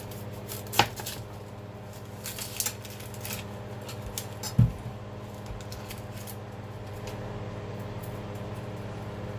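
A knife cuts through an onion on a board, giving two distinct sharp chops and a few lighter taps against a constant low hum, with no talking.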